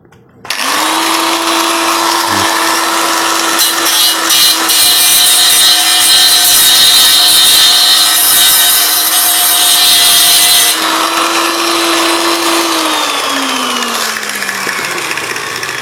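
An angle grinder smooths a metal surface, its motor spinning up quickly into a loud, steady whine that holds for about twelve seconds before winding down, with no talking.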